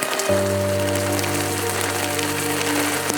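Steady rain falls at the seaside, a constant hiss of drops under a low, sustained tonal drone that begins just after the start and holds throughout.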